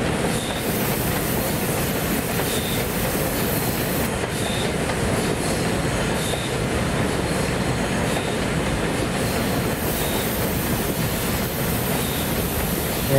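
A WAP7 electric locomotive hauling a train on broad gauge track, a loud, steady close-up roar of running wheels with faint rhythmic clicks from rail joints recurring every couple of seconds, no talk.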